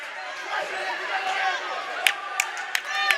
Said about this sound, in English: A great crowd here at the Shipyard